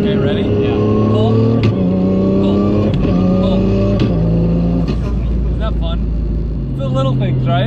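A 1200HP Ford Mustang accelerating hard, its engine climbing in pitch through several rising runs with shifts between them, loud and close from inside the car, with people talking over it.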